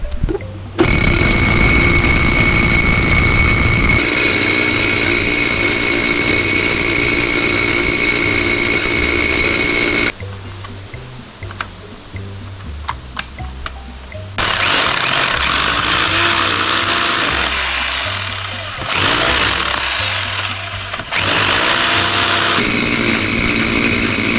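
A core drill bit bores dry through material on a house construction site, its worn, broken teeth making it snag; a loud, steady whining drone runs for ten seconds, drops to rough grinding, then returns in strong bursts.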